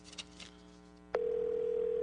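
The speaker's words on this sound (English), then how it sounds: "You can hear it ringing." A telephone call to Homeland Security rings out over a live broadcast line, with faint background noise first and then a sudden steady tonal ring tone that holds loudly to the end.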